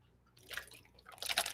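A small amount of leftover liquid sloshes and rattles inside a bottle as it is shaken hard, two short bursts of wet splashing close by, quiet otherwise.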